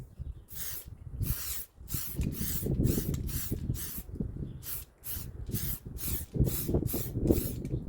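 Bursts of spray paint hissing from a can as a third coat goes onto the rear hatch of a 1996 Geo Tracker, a dozen or so short, close passes in a steady rhythm with brief gaps between them.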